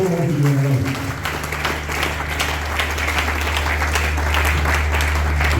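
A church congregation at a Sunday service applauds steadily and loudly for several seconds, the clapping washing over sustained instrument tones in a reverberant hall.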